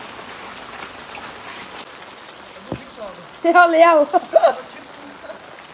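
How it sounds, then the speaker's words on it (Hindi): Heavy rain falls steadily on a village in Mirpur, Azad Kashmir, a constant close hiss of drops, with a brief exchange of voices over it partway through. "तो बारिश बहुत ज़्यादा है"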